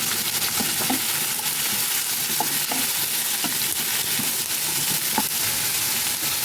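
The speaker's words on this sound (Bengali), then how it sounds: "যতক্ষণ পেঁয়াজটা ভাজা হবে" Onions frying in a pan for a Bengali onion-poppy-seed dish: a dense, steady hiss of sizzling oil throughout, close, with faint scattered pops and light utensil taps and no talk.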